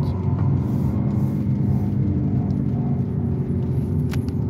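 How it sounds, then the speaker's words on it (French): A Peugeot car being driven at speed during an ABS sensor check, giving a steady loud low engine and road rumble from inside the cabin with no pauses. "On va rouler un peu vite"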